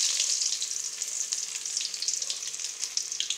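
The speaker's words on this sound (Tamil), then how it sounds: "கடுகு பொரிஞ்ச உடனே நம்ம தட்டி வச்சுருக்கிற இஞ்சி அதில் போட்டுக்கலாம்." Crushed ginger frying with popped mustard seeds in hot oil, a bright, crackling sizzle with rapid popping bursts throughout, close and fairly loud, no talking.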